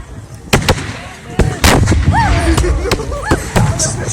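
Volleys of musket gunfire from a battalion at an Austerlitz battle reenactment, several sharp cracks and booming reports spread unevenly across a few seconds, with shouted voices and commands heard between the shots.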